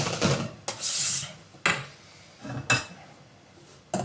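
Chocolate batter for a mi-cuit is mixed in a bowl with a utensil, giving close, loud rubbing and scraping strokes in irregular bursts with brief clinks between them.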